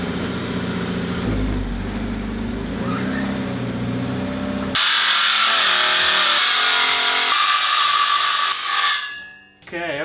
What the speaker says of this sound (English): I'm gonna try cutting this using a skill saw.